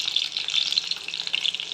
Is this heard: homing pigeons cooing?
no